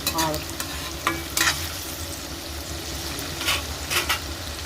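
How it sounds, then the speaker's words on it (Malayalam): Onions fry with a little salt in a pan for kadala curry, a close, steady sizzle broken by several scraping stirs. "ഉള്ളി മൂക്കുന്നതിന് വേണ്ടി ലേശം ഉപ്പ് ഇട്ട് കൊടുക്കാം."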